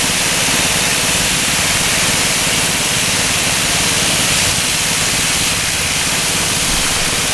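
Speedclean Gumseeker petrol-driven gum cleaning machine with hydrostatic drive running: a loud, steady broadband hiss and spray roar with an engine drone underneath, unchanging throughout.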